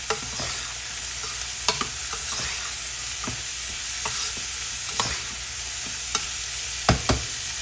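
Chopped tomato tipped into a hot pan and stirred, a soft sizzle running underneath while a spoon scrapes and clacks against the pan in irregular strokes, close and fairly quiet.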